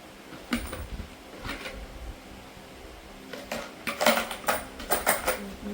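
Scattered metallic clinks and jingles of coins from a broken piggy bank tumbling and being sorted by hand, sparse taps early and a busier cluster near the end.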